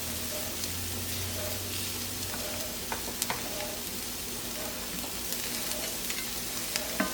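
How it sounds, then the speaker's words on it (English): About two tablespoons of butter melting in a frying pan beside other food, producing a constant close sizzle with faint crackles and small pops throughout, without talk. "we're going to add about 2 tablespoons of butter."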